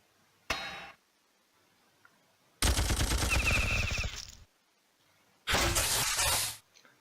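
In the Battle Nations game, a Phalanx tank and plasma artillery fire in three loud volleys: one short sharp burst, then two longer rapid, rattling barrages separated by quiet gaps.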